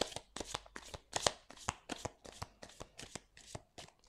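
Oracle cards being shuffled for a card reading, a steady series of about a dozen crisp riffling slaps, close and fairly quiet with no talk.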